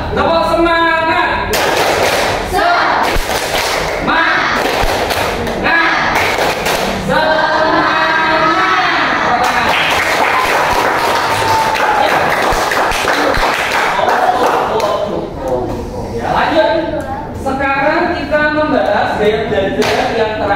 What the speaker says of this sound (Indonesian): Ya, terakhir tepuk tangan. Kita coba. Tepuk semangat.